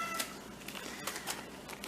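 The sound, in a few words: cat meowing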